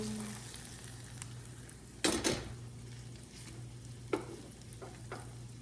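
Salisbury steak patties sizzle and fry steadily in a pan after being flipped, with a continuous close hiss broken by a couple of louder utensil scrapes and clinks.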